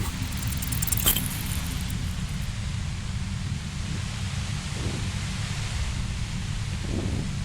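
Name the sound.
overwhelming white noise near compressor, Disco Elysium video game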